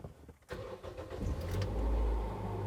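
A Toyota Yaris engine starting up: a starter whir, then the engine catching and settling into a low, steady idle rumble, heard close and indoors-quiet with no talking.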